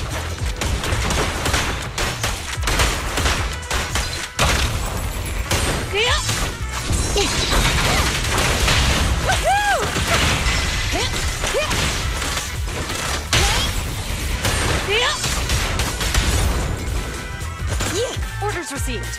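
Sustained gunfire from the Suppressor K-22 in Zenless Zone Zero: dense, loud rattling volleys and crashing impacts run almost without pause, mixed with game voices and music.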